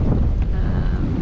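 Light wind gusts steadily over a boat heading west through a channel between two islands under overcast skies near Cairns, a constant low rumbling buffet close to the microphone without a break.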